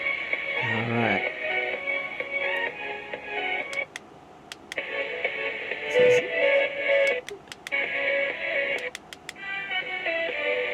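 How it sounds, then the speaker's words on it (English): Electronic tones and short melodic beeps play from the speaker of a Veeniix V997 monster truck toy, a series of bright synthetic notes with brief clicks and pauses between them, fairly quiet and close. "a couple different tones"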